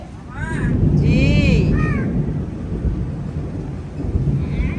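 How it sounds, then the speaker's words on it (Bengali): A deep rumble of thunder rolls on through most of the stretch as lightning flashes and rain begins, with a sparrow calling and a voice speaking over it. "যে পরিমাণ শব্দ হচ্ছে বিদ্যুৎ চমকাচ্ছে আবার বৃষ্টি শুরু হচ্ছে"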